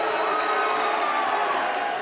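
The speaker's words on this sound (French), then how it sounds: "alors on applaudit monsieur Fred" Game show crowd at a convention in Toulouse, a dense, steady wash of applause and cheering with no pauses.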